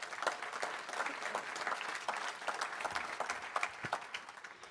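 Audience clapping at a plenary session of a 2018 energy forum conference, a steady patter of many hands sustained throughout, fairly close and without voices on top.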